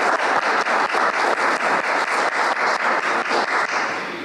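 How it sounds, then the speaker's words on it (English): Audience at a state parole board business meeting bursts into steady, sustained applause for birthday celebrants, dense clapping filling the room at close range and tapering slightly at the end. "Please join me in giving them a round of applause"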